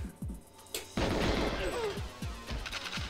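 Bursts of gunfire from the GoldenEye shooter game, several sharp shots followed by a dense rapid volley, layered with game effects and faint voices, fairly quiet overall.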